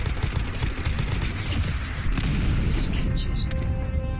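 Missile launcher blasts and gunfire in the video game Fallout 4, a continuous heavy barrage of booms and shots filling the whole stretch at a loud, steady level.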